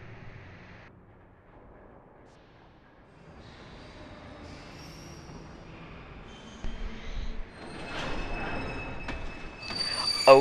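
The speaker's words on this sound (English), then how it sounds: "Oh snap, it's the ghost train." The ghost train from Kingdom Hearts II rolls in, starting as a faint rumble and building into louder rattling and a high, sustained wheel squeal toward the end, with no talking.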